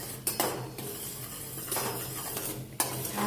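Melting jaggery stirred in a pan for sesame chikki, with a metal spoon scraping and knocking against the pan in uneven strokes over a low steady background, close and moderately quiet, with no talking.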